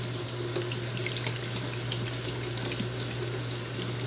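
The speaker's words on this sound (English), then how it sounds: "we're rinsing the bleach down so that the bleach comes out and doesn't go on the rest of our hair" Steady tap water runs continuously into a sink, rinsing bleach out of a closure wig. The flow is even and moderately loud throughout, with light splashing and no talking.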